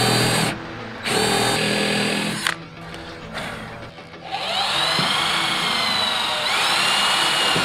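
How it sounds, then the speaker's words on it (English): A power drill bores a larger bit into a wooden trailer deck board, whining in several bursts with short pauses, then a steady sustained run near and loud. "I'm going to have to sink a larger bit about halfway through my board"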